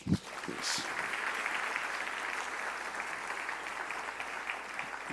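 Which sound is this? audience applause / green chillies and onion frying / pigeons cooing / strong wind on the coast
audience applause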